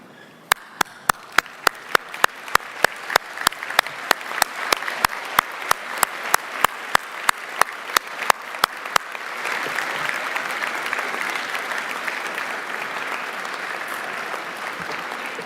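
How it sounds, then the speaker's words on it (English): Graduates at a college winter graduation ceremony applaud their parents and lecturers: loud, sharp, evenly timed clapping in unison at first, then breaking into a dense, sustained round of applause from the hall. "please give them a huge round of applause"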